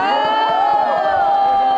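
A crowd of visitors cheers and whoops with sustained, bright voices at a company headquarters visit during a friendship cycling tour in Gumi, steady and close for the whole stretch.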